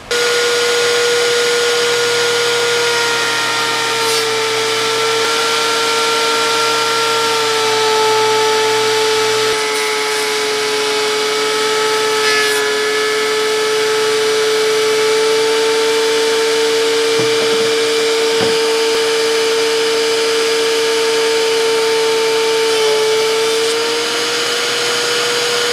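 Wood boards run through a planer while building a workbench, a loud steady motorized whine with a constant high tone throughout, no talking.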